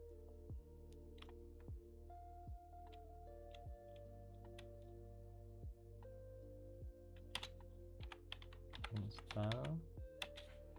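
Computer keyboard typing a command, a sparse run of close, crisp key taps with a busier cluster of clicks near the end, over a faint steady hum.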